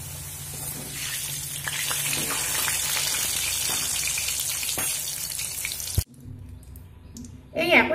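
Potato pieces frying in oil on a medium flame, a loud continuous sizzle with scattered crackles and stirring clicks, then a sharp knock and quieter sizzling near the end.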